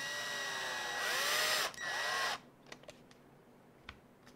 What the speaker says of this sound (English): same thing again, drill these in